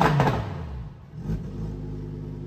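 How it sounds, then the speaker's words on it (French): Supercar with forged carbon parts and an aftermarket sport exhaust opened in sport mode, a deep throaty engine rumble rising briefly then settling into a low steady growl nearby. "Enfin, il a ouvert l'échappement en mode sport."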